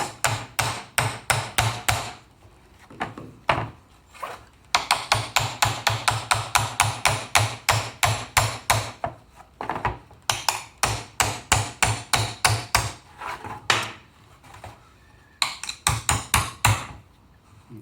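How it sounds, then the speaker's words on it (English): Steady, rapid hammer taps in long runs, close and sharp, with a few short pauses between bursts. "If you have trouble getting it through, you can use the hammer again."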